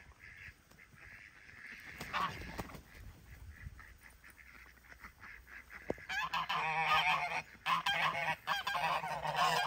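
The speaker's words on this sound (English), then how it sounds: "We keep 4 Emden geese with the ducks here out in the orchard because they protect the ducks" Emden geese honk repeatedly alongside ducks in a farm orchard, the calls growing louder and more continuous toward the end, with a voice speaking faintly early on.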